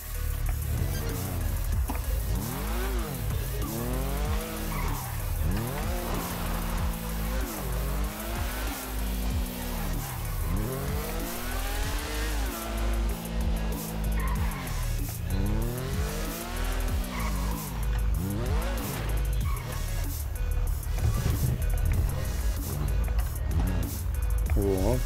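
A motorbike engine in GTA 5 revs and whines continuously, its pitch rising and falling in repeated sweeps through gear changes, loud and sustained with tire noise throughout.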